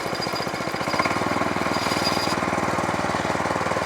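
A power weeder's small engine runs in first gear with light throttle, a loud close rapid chugging pulse that holds steady throughout without talk.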